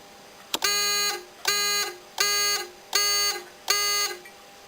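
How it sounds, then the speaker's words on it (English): A small electronic buzzer on an Excelsior Model U8 motorcycle sounds five times in an even rhythm, each tone lasting about half a second, loud and close after a brief click. "In fact, I've even got a little buzzer."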